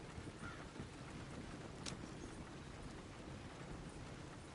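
Horse hooves clip-clop steadily along a road in the rain in Red Dead Redemption 2, faint and distant beneath an even wash of rainfall.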